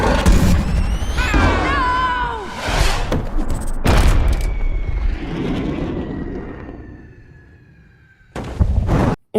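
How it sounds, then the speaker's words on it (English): A cannonball fired by Lord Shen strikes Po in the Kung Fu Panda film, heard as a heavy booming impact and blast with whooshing, rumbling debris and a rising whistle, loud and cinematic, ending in a sharp final burst. "And here's what happened when Po was hit by one."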